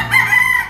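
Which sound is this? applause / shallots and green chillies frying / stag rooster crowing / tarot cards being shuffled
stag rooster crowing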